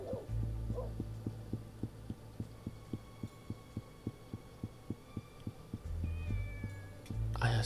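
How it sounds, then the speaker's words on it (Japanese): A cat meows in the Dreamcast game Shenmue, brief cries near the start and end over a steady, throbbing, heartbeat-like pulse and low hum in the game audio. "猫"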